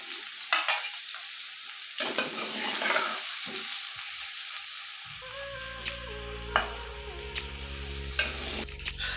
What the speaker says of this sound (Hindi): भिंडी फ्राई होगी हमारी।